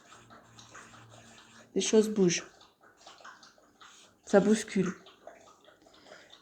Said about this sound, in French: c'est mon chien qui est en train de boire.